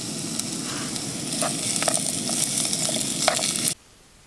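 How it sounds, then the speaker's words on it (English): Backcountry stir fry with peanut butter and honey sizzling steadily in a pan over a camp stove, with a few scrapes and clinks of stirring, close and continuous before cutting off abruptly near the end. "There you go, backcountry stir fry."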